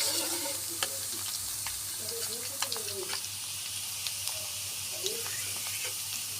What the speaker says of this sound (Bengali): সুন্দর করে নাড়াচাড়া দিয়ে আলুগুলো ভেজে নিব